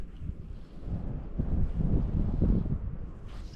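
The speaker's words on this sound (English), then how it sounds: "It's pretty darn windy." Steady wind gusting across a high alpine lake, a broad low rumble that swells and buffets the microphone throughout, loud and continuous with no voices.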